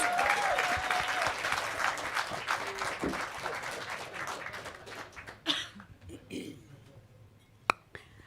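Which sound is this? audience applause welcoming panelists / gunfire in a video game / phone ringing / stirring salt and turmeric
audience applause welcoming panelists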